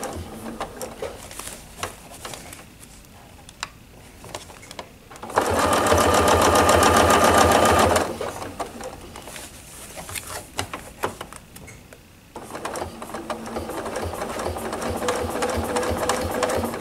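A sewing machine stitches a table runner in a ruler-work quilting class, with short stitch bursts, a loud sustained run of several seconds, a pause, then another long stretch of stitching, all close up.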